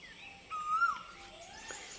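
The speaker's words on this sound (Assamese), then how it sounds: "ওপৰত দেখি কুলিয়ে মাতি আছে কুহু কুহু" Asian koel calling outdoors: one clear, rising whistled note stands out midway, fairly faint and somewhat distant, over quiet background noise.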